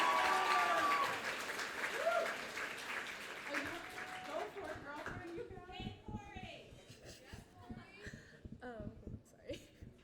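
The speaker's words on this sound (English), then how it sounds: "Give them a round of applause." An audience at a student world cafe shareout applauds, clapping strongest at first and thinning over a few seconds, then giving way to murmured talk and children's voices.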